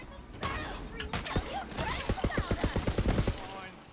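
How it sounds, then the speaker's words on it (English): Rapid automatic assault rifle fire from the video game Tiny Tina's Wonderlands, a fast run of sharp bursts layered over busy game combat effects, with players talking throughout. "My assault rifle has got higher fire rate when zoomed."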